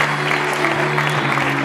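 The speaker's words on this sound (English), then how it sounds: "Give a round of applause for Martin Tideswell, thank you Martin, and Jasmine Sawyers." Audience applause at a local radio awards ceremony, a steady wash of clapping heard over a low sustained hum.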